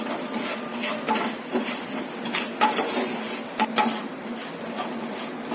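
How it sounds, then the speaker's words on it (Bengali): Spoon scraping and stirring melting sugar in a pot over a medium gas flame while making sweet curd, with steady clinks and scrapes against the metal close by, no talk. "তো কন্টিনিউ কিন্তু নাড়তে হবে, না নাড়লে কিন্তু নিচে বসে যাবে।"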